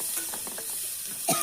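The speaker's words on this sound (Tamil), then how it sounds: "எண்ணெய் தடி போட்டு இப்படி வதக்க." Vegetables sauté in hot oil in a pan for sambar, giving a close, steady sizzle broken by a few short stirring scrapes over a brief moment.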